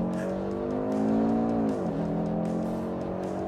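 The 400 hp petrol engine of an Audi RS Q3 pulls hard under acceleration with a sustained loud drone, then dips briefly at a gear change before it climbs again, close and without speech.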